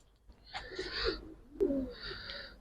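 Giribaz pigeons coo softly nearby, two throaty, rolling calls separated by a short pause in a quiet setting.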